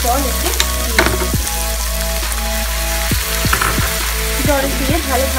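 Powdered spices fry in oil for a Bengali omelet curry as a little water goes in, setting off a loud sizzle, followed by a run of rhythmic spatula scrapes and knocks against the pan, with no talking.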